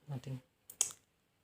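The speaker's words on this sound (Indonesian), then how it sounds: "kita mulai mengetik" Typing Java code on a computer keyboard: a brief voice, then after a short gap a single sharp, close keystroke click with a quick follow-up tap, all fairly faint.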